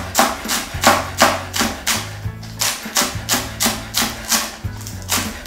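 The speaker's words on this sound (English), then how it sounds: "Next, I'm gonna chop 2 green onions." Green onions being chopped with a knife on a wooden board: a steady run of about a dozen crisp, close knife strikes in an even rhythm, with no talking.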